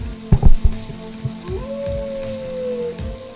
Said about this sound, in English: Howling at the moon.